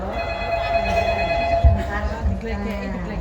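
A telephone rings during a Javanese ketoprak theatre performance, its steady electronic tone held under talk and stage noise.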